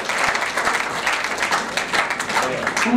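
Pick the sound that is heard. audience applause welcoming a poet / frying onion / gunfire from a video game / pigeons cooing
audience applause welcoming a poet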